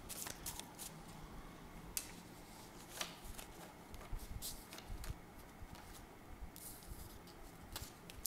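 Tarot cards are shuffled by hand in a soft, continuous riffle of papery flicks and flutters. The sound is close but quiet, with no talking.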